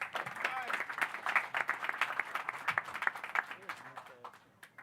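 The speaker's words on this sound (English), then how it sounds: "big round of applause to Mike Stafford" Crowd applause at a boxing final press conference welcoming a speaker, a scattered patter of many claps with a few louder hits, tapering off at the end while voices talk over it.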